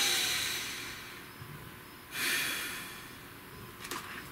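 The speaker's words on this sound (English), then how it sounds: "Nice deep breath." A single slow, deep breath is drawn in and released through the nose, soft and close in a quiet room, with a faint sniff near the end.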